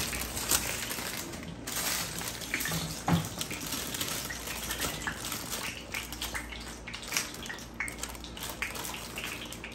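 Balls of rice dough (pidi) are dropped into a pot of boiling water, with continuous close bubbling and splashing and a few sharper plops, heard without talk.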